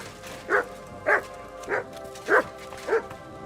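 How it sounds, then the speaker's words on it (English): A dog in Kingdom Come: Deliverance II gives five evenly spaced short yips and whimpering barks, close and clear over a quiet background. "Good dog, Mutt."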